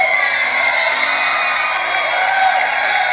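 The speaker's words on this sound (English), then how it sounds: "Give him a big round of applause, Thomas." Studio audience at a game show breaking into loud, sustained applause mixed with whoops and cheering, a dense steady roar close by with no pauses.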